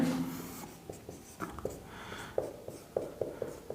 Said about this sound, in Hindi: तो जैसे मान लीजिए हमने एक शब्द लिख दिया यहाँ पे